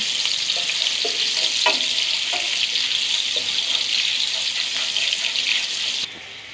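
Onion and green chili fry in hot oil in a pan, a loud, close, continuous sizzle with a few soft clinks of stirring, easing slightly near the end.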